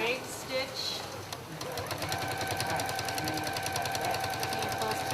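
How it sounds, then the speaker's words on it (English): A sewing machine runs a straight stitch around the edge of a quilt, a steady fast mechanical chatter that builds up and holds for several seconds, close by. A voice talks at the start. "she's going to sew around the edge with a straight stitch"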